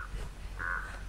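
A crow caws in Dead by Daylight, one harsh call near the middle standing clear over a low, quiet game ambience.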